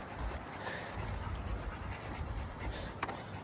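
A dog pants quickly and steadily close by during a hot 5-kilometre jog in a park, soft rhythmic breaths with faint whimpers mixed in.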